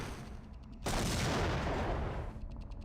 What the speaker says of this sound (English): which stock explosion sound effect is that?